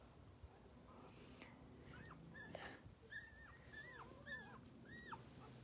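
Newborn puppies whimper and squeak in high, wavering cries as they push in for their milk, several overlapping yips close by over a faint background hiss.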